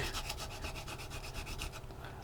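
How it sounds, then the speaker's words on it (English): Steady, rapid back-and-forth abrasive scraping of a sanding stick on a 1/48 scale plastic model aircraft, close and continuous without talk. "Maybe get the sanding stick,"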